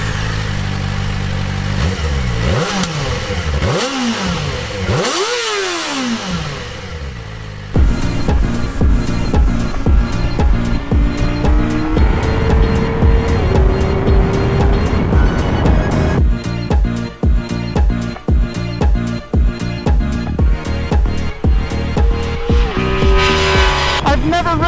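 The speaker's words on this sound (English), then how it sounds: "a small displacement bike that revs up so fast and so high" A 2024 Kawasaki Ninja ZX-4RR 400 sport bike screams to very high revs on a race track, loud and close, its pitch sweeping up and dropping through rapid gear changes in a continuous run.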